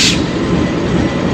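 A train locomotive rumbles loud and close at a station in Pakistan on a foggy morning, a continuous dense roar filling the short stretch with no voices.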